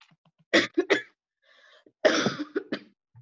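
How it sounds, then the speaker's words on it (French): People in a class cough one after another, a few sharp separate coughs in two short clusters, fairly close and loud, with a brief faint murmur in between. "Vous toussez tous?"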